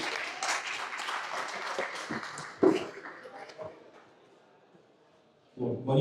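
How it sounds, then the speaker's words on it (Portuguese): Dense crowd applause at a talk at Modular House in Rio rolls on for about three seconds, then thins out and fades to near silence before a sudden burst of closer sound at the end. "E uma salva de palmas aí, gente, por favor."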